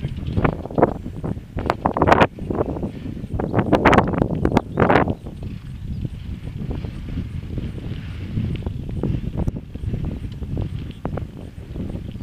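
Strong wind on a mountain trail near Vârful lui Crai, gusting hard into the microphone with loud rumbling buffets early on that settle into a steadier, lower roar.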